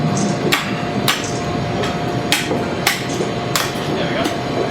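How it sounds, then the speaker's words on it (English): A cleaver chopping down along the ribs of a pig carcass, about eight sharp loud impacts at irregular intervals over a low steady background hum. "now I just have to cleave it down along the ribs"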